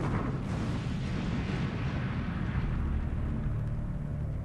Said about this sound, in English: America's third largest refinery suffered a major explosion.